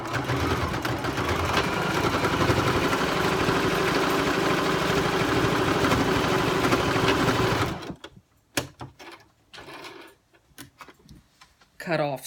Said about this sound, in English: now what I'm going to do is I'm going to sew the mouth closed